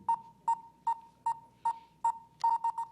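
A quiz show's ten-second countdown timer from a 1945 broadcast: a steady run of sharp, evenly spaced pings about every 0.4 seconds, ending in a quicker cluster of beeps, fairly clear over a faint hiss.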